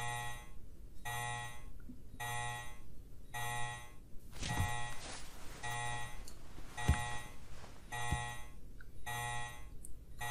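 A repeating electronic alarm in the video game Resident Evil Code Veronica X, rhythmic bursts of shrill ringing tone on and off about every second, with a few thuds and game noises in the middle.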